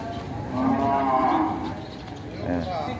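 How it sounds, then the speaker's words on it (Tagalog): A water buffalo lows twice, a long deep moo followed by a shorter one, fairly close, over faint outdoor background. "O, narinig naman ang kalabaw."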